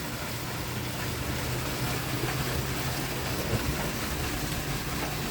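Heavy rain falls steadily outdoors in a continuous, even wash of noise with no breaks, close and moderately loud.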